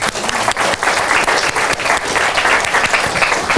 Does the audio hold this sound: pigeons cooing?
no